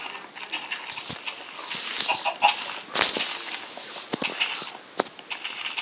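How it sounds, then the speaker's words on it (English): Minecraft chickens clucking and squawking in a steady, overlapping stream at close range, with occasional soft footstep-like taps beneath them and no talk in the clip. "Come on, chickens. Get in the lovely house."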